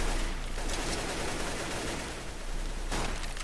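Shotgun fire in the ragdoll physics game Flying Ragdolls, a dense, noisy burst of blasts filling the whole clip at steady loudness, with a sharper crack near the end.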